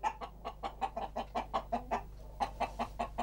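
Gallo pardo roosters, a breed raised for fly-tying feathers, cluck close by in a quick, even run of short calls, with a brief pause partway through.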